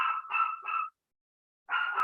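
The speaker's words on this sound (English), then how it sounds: "For the record, for once, it's not my dog." A small dog barking indoors during a city council meeting, three quick yappy barks in a row, then a pause and a fourth bark, fairly close and alone.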